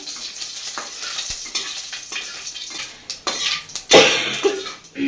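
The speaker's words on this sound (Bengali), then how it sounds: "আর দেবো শুকনো লঙ্কা এই যে শুকনো লঙ্কা শুকনো লঙ্কা আর সর্ষে ফোড়নে দিলাম" Dried red chillies and mustard seeds crackle and sizzle in hot oil in a pan, with irregular pops and a few clinks of a utensil against metal, close and moderately loud, with no speech.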